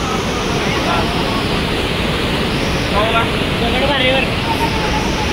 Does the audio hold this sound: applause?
no